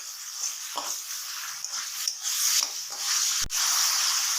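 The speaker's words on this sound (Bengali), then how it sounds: "এখন আমি পেঁয়াজটা হালকা লাল করে ভেজে নিব।" Chopped onions, about a cupful, fry in hot oil in a home kitchen for a fish curry. A steady hiss and sizzle is broken by occasional scraping stirs and one sharp knock.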